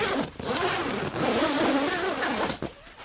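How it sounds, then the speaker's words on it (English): A zipper on the door of a Gazelle T3X hub tent is pulled open in one long, continuous rasping run at close range, slowing briefly partway through before ending. "Use a zipper, and these allow you to open up the tent"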